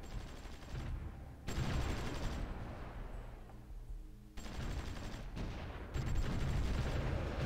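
Artillery and gunfire in a war strategy video game set in El Salvador: bursts of rapid shots and booms come in loud waves, with a brief lull in between.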